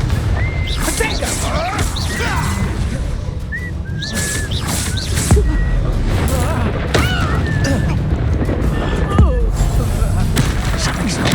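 Confringo blasting spell explosions in Hogwarts Legacy combat, repeated sharp booms and crashes scattered through a busy fight with whistling magical effects, loud and close, while a voice talks over the action.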